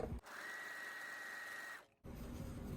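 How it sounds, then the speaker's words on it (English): A Juki MO654 serger runs a 4-thread overlock seam in one steady, fast whirring burst of about a second and a half, close and fairly quiet, with a brief pause before the room tone returns. "you can see it sews 4-thread overlock beautifully"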